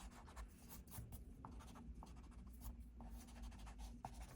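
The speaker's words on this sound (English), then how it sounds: "I can erase and come back in just to kind of get rid of some of my pencil marks that I don't want" Pencil marks being erased on paper, heard up close as soft, quick rubbing strokes in an uneven rhythm, quiet and without speech.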